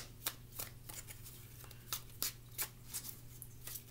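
Tarot cards riffled and shuffled in quick irregular bursts of crisp flicking, close and fairly quiet over a low steady hum.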